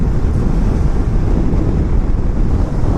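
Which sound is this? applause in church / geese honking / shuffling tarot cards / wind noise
wind noise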